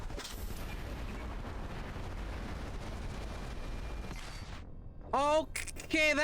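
Sustained, dense gunfire and blasts roar steadily in a Mass Effect 3 firefight, loud and continuous for several seconds before cutting off. A voice speaks briefly near the end.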